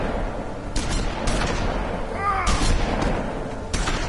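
Rapid bursts of gunfire from a weapon in The Wolf Among Us, several clustered volleys with sharp, loud cracks over a busy game background.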